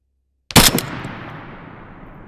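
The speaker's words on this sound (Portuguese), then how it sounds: "Ele atirou no cara que tava aqui na escola" A single loud, close gunshot rings out in Arma 3, its sharp crack followed by a long echoing tail that fades slowly across a couple of seconds.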